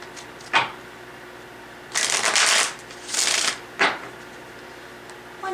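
Tarot cards being shuffled in a few quick riffling bursts, close and crisp, separated by short pauses with small taps between.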